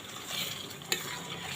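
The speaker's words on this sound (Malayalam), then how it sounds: "എന്നിട്ട് ഒന്ന് ഇളക്കി കൊടുക്കാം." Anchovy pickle with fenugreek powder being stirred gently in a pan, a soft low sizzle with a single sharp clink of a utensil partway through.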